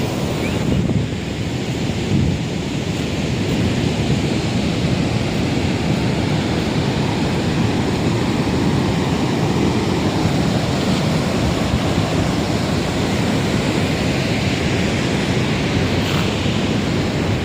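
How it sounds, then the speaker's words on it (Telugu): Water pours through an open gate of Somasila Dam in a steady, heavy roar that fills the whole stretch without pause, loud and close, with wind buffeting the microphone. "ఇప్పుడైతే వాటర్ అనేది వదిలి ఉన్నారు. ఇటు సైడ్ ఒక గేట్ అయితే వదిలింది."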